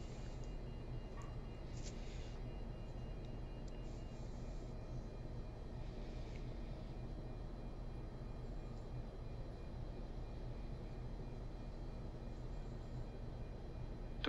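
Boeing 747-200 engine number one starting in a flight simulator, a low, steady turbine rumble and whine that holds evenly and faintly throughout with no voices.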